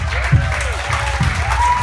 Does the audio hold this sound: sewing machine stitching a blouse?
no